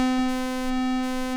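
A steady harmonic synth drone hangs unbroken throughout, produced by a MicroFreak whose press-sensitive keyboard sends aftertouch that conflicts with an Octatrack over MIDI, with faint flickers of noise around it.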